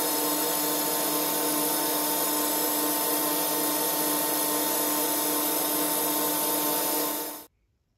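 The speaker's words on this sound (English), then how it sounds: "One final reface just to clean up from the parting off." A Boxford BUD lathe refaces a brass oil can part, a steady loud whirring machine drone with a tonal hum that runs evenly for about seven seconds, then stops abruptly.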